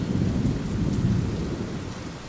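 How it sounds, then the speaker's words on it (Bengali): Heavy rain pours in a steady roar through a thunderstorm while deep, rolling thunder rumbles close by throughout, with no voices. "আকাশের বুকে তীব্র বজ্রধ্বনি, তার সঙ্গে দমকা হাওয়া আর ঝমঝম করে নামে বৃষ্টি"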